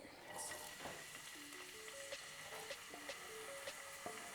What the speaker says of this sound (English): I will fry the onions at medium heat till they are light golden brown.